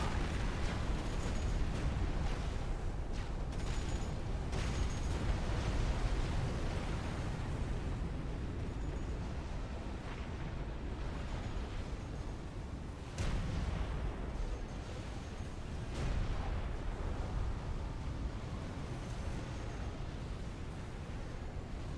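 UEF naval guns trading fire in a Supreme Commander: Forged Alliance battle, a dense, continuous rumble of booming shots and explosions layered over each other, loud and steady throughout with no break.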